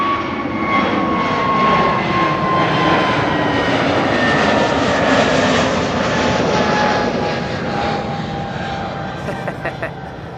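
An airliner climbs away after takeoff from Amsterdam Schiphol Airport, a loud, steady jet roar with a whining engine tone that slowly falls in pitch, heard throughout with no talk.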